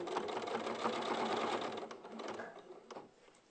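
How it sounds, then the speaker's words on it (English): Sewing machine stitching a seam, a steady fast mechanical whirr running close for a few seconds before slowing and stopping near the end, with no voice over it. "And then just sew up the other side."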